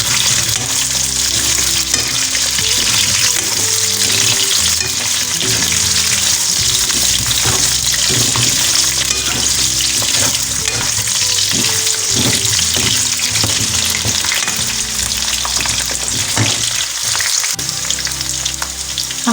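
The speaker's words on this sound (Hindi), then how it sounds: "ऑनियन थोड़ा गोल्डन हो चुका है, इसमें पोटैटोज़ ऐड कर लेते हैं। इसको 1 से 2 मिनट तक पकाएंगे इसमें।" Potatoes frying with golden-browned onions in a pan for aloo pulao, a loud continuous sizzle with occasional stirring scrapes throughout, no voices.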